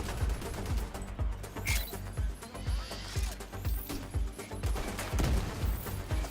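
An enemy turret in The Division 2 hammering out rapid gunfire, repeated sharp bursts with a pulsing rhythm across a noisy firefight.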